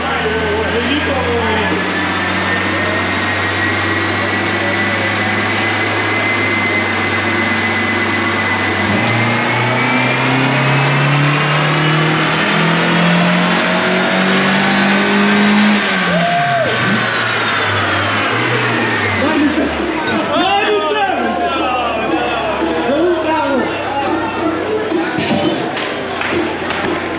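Paul Walker's screen-used Mitsubishi Eclipse on a dyno at Trilogy Performance: the engine climbs steadily in pitch over a long pull and then drops off sharply as the throttle closes, loud and close, with a steady drone underneath.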